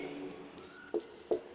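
Chalk or a marker scratches across a classroom board during a lesson in short faint strokes, with two louder taps, while a voice talks quietly underneath.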